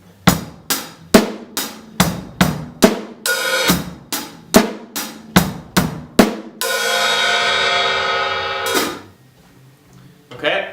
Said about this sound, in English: I'm going to play 2 bars of the beat and I'm going to put an open hi-hat at the end of each bar.